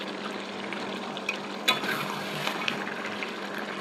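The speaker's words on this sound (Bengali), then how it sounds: "আমি একটু টমেটো কেচাপ দিয়ে দিলাম, এরপরে ভালো মতো নাড়াচাড়া করে নিলাম।" Chicken kosha with a little tomato ketchup stirred in a pan gives a steady, soft sizzle of frying, with the occasional scrape of the spoon and brief clicks, close and fairly quiet, with no talking.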